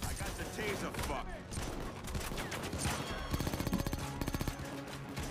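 In PayDay 2 VR, during a San Martin holdout wave, heavy gunfire rattles in rapid bursts, ending in a fast, loud, evenly spaced volley near the end, mixed with shouting players.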